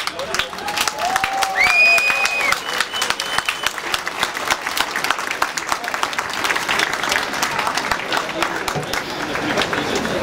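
Sustained applause from a large crowd at a 2011 pro-democracy protest rally in Munich, dense clapping with some whistles and cheers, steady and loud throughout.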